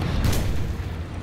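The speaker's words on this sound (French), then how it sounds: "C'est un canon 75, je pense, japonais." A Japanese 75 mm tank cannon fires in the War Thunder game, giving one deep, loud boom that rolls out and fades over about a second.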